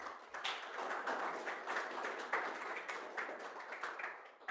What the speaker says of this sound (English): a huge round of applause for Gracian